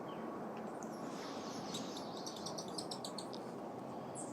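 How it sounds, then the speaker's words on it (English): Faint, high-pitched chirps come in short bursts of rapid twitters from a hummingbird overhead in a garden, set against a steady hiss of outdoor noise. "can you hear the hummer singing up there? Chirping."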